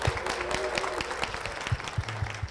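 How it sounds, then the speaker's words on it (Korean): A church congregation applauds as a district leader deaconess is welcomed forward during a testimony service, a moderate, scattered clapping from a seated crowd at mid distance. "박수로 모시겠습니다."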